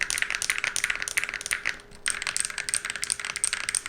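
Typing on a mechanical keyboard with a marbly, fairly loud sound: a steady stream of rapid keystrokes with a short pause midway, close and alone with no talking.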